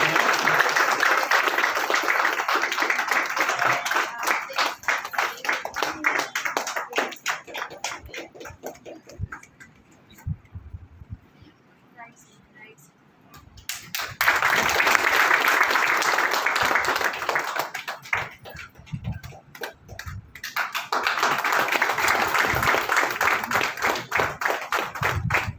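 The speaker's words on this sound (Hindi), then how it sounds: "तालियां बजती रहनी चाहिए।" Crowd clapping at a traders' ceremony honouring an ACP, sustained dense applause in long bursts that drop briefly to near silence before rising again.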